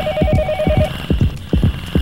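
A telephone rings with a steady electronic trill during the first second in the horror video game Yomawari Night Alone, over rhythmic low thudding footsteps that continue after the ringing stops.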